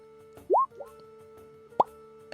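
A human voice imitates a popping sound with a quick rising mouth pop, followed by a second shorter pop, faint over a quiet steady hum.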